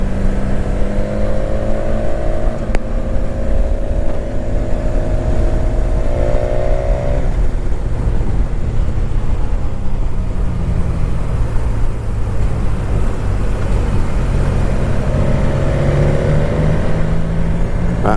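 A 2019 BMW S1000XR sport motorcycle's engine and intake induction noise fills the ride, rising and falling through revs and gear changes, loud and steady from close by, with wind roar underneath.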